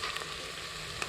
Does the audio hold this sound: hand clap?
no